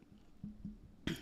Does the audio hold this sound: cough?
yes